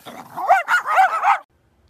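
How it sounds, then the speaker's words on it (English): A German Shepherd gives a quick run of about four harsh barks, close and loud, then silence. "there's a lot of barking, that German Shepherd up there"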